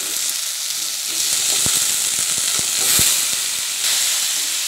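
Potatoes and taro leaves sizzle and hiss loudly in a hot pan, a steady frying roar broken by a few sharp clicks of stirring utensils against the pan.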